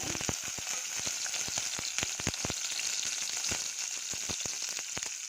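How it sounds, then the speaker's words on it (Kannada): Tomato, a small onion and four or five garlic cloves frying in two spoons of oil, a steady close sizzle broken by rapid crackling pops and spatters throughout, with no talking. "ಒಂದು ಟೊಮೊಟೊ ಒಂದು ಸಣ್ಣ ಈರುಳ್ಳಿ ಒಂದು ನಾಲ್ಕೈದು ಹೆಸರು ಬೆಳ್ಳುಳ್ಳಿ ಇದನ್ನ ಹಾಕಿಬಿಟ್ಟು ಬಡಿಸ್ತೀನಿ"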